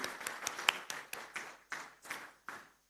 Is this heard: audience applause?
yes